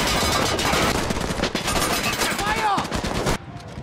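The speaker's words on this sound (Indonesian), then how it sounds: "Bruno yang bengis pun memerintahkan pasukannya untuk menembak Atami" Soldiers in a film fire their guns in a dense burst of rapid shots over mixed action noise and voices, the gunfire loud and continuous before cutting off abruptly near the end.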